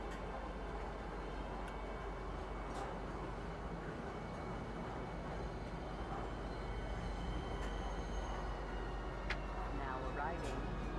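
Train arriving at a spaceport in the video game Star Citizen, a steady low rumble with faint ticking and clicking, moderately quiet and continuous, with a voice speaking over it.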